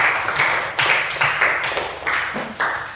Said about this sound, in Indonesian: Berikan aplaus dong untuk Ferdi.